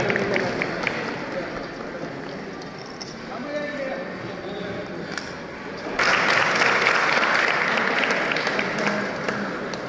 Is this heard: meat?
no